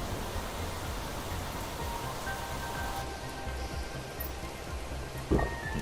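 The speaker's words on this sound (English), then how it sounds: "Torrential rain." Torrential rain in the survival game The Planet Crafter, a steady, fairly quiet hiss of downpour with a faint tonal hum joining partway and a brief thump near the end.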